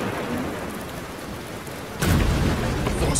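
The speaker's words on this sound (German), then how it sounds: "dieser Regen hört nicht auf" Steady heavy rain pours in a cartoon storm scene, a dense constant hiss that swells louder and fuller partway through as a rumble of thunder joins in.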